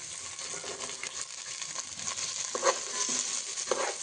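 Carrots, beans and green peas fry in hot oil, giving a steady soft sizzle with occasional light stirring clinks, close and fairly quiet.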